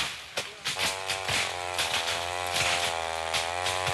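Motorized chainsaws cutting into the largest trees of the Peruvian Amazon forest make a continuous, loud buzzing engine whine that rises and falls slightly as the blades bite.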